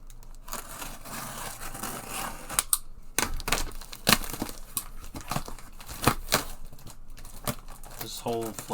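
A taped cardboard box being pulled open, with sharp tape rips and crinkling cardboard in irregular bursts, close and fairly loud, and brief gaps between tugs.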